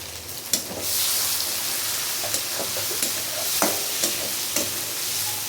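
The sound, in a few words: frying onion and ground shrimp with green chillies in a pan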